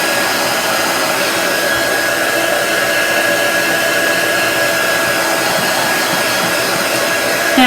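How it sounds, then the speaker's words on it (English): A handheld heat gun drying chalk paint on a sign blows with a constant, loud whooshing roar and a thin steady whine, running without pause up close. "Tonight I'm using a heat tool."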